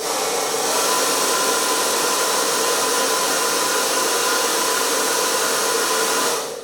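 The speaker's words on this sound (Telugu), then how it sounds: "మనం డ్రైయర్తో కొంచెం తడిపోయేలా చేసాము" A hair dryer blows on a men's hair patch during an at-home service, a loud, steady whooshing hum that holds unbroken for several seconds before cutting off at the end.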